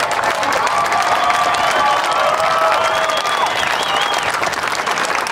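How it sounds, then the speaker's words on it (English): A crowd at a B-17 tribute event honoring the armed services applauds continuously with scattered cheers and whistles rising over the clapping, a dense, sustained wash of sound throughout. "let's give a great round of applause"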